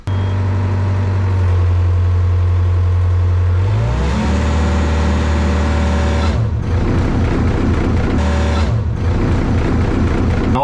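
A heavy excavator diesel engine with a hydraulic tracking fault roars loud and close at full throttle, then drops to a lower idle rumble, with brief throttle changes toward the end.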